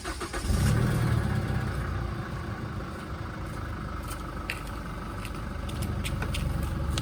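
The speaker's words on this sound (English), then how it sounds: "this is the factory exhaust. You really can't hear anything coming out." A Chevrolet Colorado diesel pickup on its factory exhaust rumbles low and steady, with a brief louder swell near the start before settling into a subdued, even drone close by.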